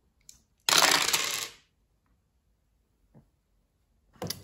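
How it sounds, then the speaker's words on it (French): Dice rattle and tumble onto a table during a Mini Rogue board game, with one sharp, clattering roll lasting under a second, then a single small tap and a brief second clatter, close and otherwise quiet. "On relance les dés."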